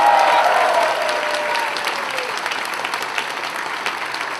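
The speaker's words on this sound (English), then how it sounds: "So round of applause for them, please." A convention audience at a furry convention opening ceremony applauds loudly, a dense wash of many hands clapping that starts strong and stays steady, slowly easing off, with no talking over it.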